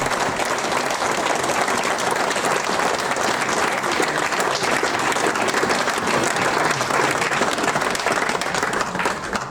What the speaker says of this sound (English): So I think I would like, if we could just give Artie a round of applause for his services to the club.